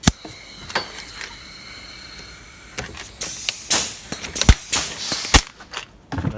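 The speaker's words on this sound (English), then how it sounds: "We rivet that on right here through there." A cable protector is riveted into place on an assembly line, producing sharp metallic snaps and clunks over mechanical handling noise, with the loudest pops near the end.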